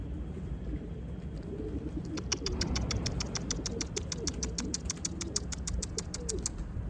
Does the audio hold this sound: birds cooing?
yes